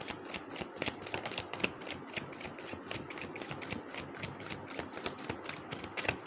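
Angel oracle cards are shuffled by hand, a soft continuous flutter of rapid papery riffles and light taps, fairly quiet and steady throughout.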